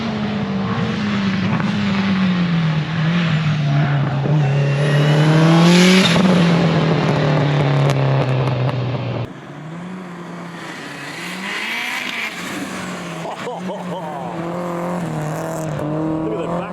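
A Subaru tarmac rally car screams past at speed on a Perth stage, its loud high-revving engine rising and falling in pitch as it approaches and passes, then a second run follows with the engine note continuing nearby.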